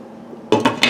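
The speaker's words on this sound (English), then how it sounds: "I'm going to go ahead and put the lid on them" A lid clatters onto a cooking pot after a quiet stretch, three quick metallic clanks close together, close and fairly loud.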